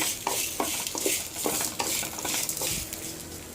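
A spoon scrapes and clinks against a pan in a quick irregular rhythm, stirring eggplant with turmeric and spices over a soft background sizzle.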